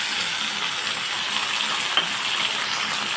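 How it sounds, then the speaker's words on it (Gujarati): Chopped tomatoes and green chili fry in a pan, a steady loud sizzle that holds evenly throughout with a faint clink partway through and no talking. "હવે આપણે ટમેટાને ગોલ્ડન બ્રાઉન સુધી કૂક કરી લઈશું"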